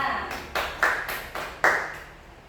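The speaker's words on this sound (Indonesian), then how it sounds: "Kasih tepuk tangan untuk Melan dan kelompoknya." A few scattered hand claps from a primary school class during a social studies lesson, five or six separate slaps spaced unevenly over about two seconds, fairly close and moderate in loudness with no talk.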